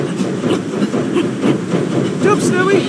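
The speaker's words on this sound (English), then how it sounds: "The train is coming! No! No, no! It's getting away!" A steam train rolls toward the listener in a Tintin cartoon, Cigars of the Pharaoh. A close, steady rumbling clatter with hiss runs throughout, and a brief voice cries out near the end.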